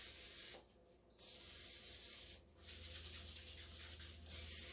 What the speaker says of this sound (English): I'll spray some canola oil in there so it doesn't stick to the mold